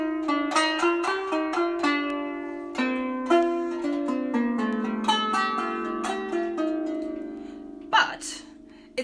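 An instrument plays the Arabic classical piece Sama'i Bayati by Ibrahim Al-Aryan in a plain, unornamented way from sheet music, with a run of distinct plucked melody notes, clear and close, and no voices.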